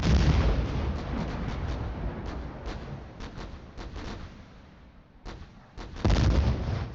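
Gunfire exchange in a strategy combat video game, with repeated sharp shots and booming bursts in irregular clusters, some fading into a quieter stretch before a loud final volley.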